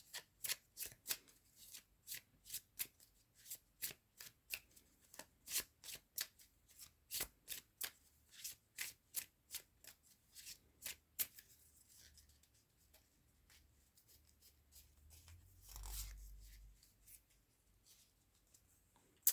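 Tarot cards shuffled by hand in a quiet room, a fast run of sharp riffling snaps for about eleven seconds, then a soft low thump and rustle near the end.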